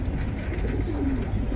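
Pigeons coo softly in a pigeon market at Kaliganj, Keraniganj, with low, murmuring calls over a steady bustle of background noise. Nobody speaks.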